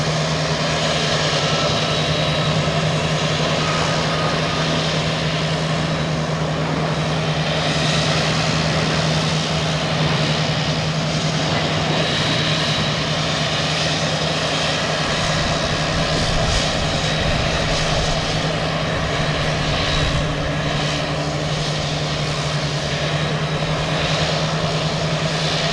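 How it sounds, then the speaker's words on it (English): An American Airlines airliner taking off at Boston Logan Airport, its engines producing a loud, steady roar with a constant low hum that stays strong for the whole stretch, heard from nearby with no talk. "American Airlines taking off,"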